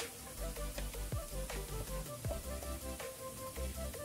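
Reddened onions for a chicken dish fry on a low gas flame, giving a steady soft sizzle with scattered crackles and pops, close and fairly quiet, under a faint background hum.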